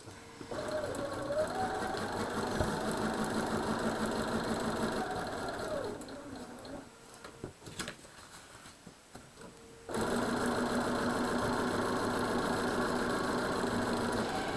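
A sewing machine stitches a quilt block on foundation paper in a steady close whir, pauses briefly for a needle repositioning, then runs again at full speed.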